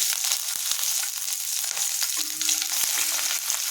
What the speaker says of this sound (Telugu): మిరపకాయలు, కొంచెం ఎండుమిరపకాయలు, ఇవి కూడా వేపుకోవాలి.